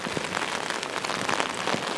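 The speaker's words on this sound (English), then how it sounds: "it's fucking raining all over the place" Rain patters steadily and densely onto a handheld recorder while walking outdoors on Jeju Island, a close, continuous wash of drops with no voices.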